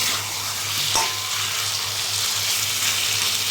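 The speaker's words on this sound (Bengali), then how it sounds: "এদিকে তো মাংসটা কষাচ্ছি" Meat sautés in a pan with a loud, dense, even sizzle that holds steady throughout, with one brief knock or stir early on and no talking.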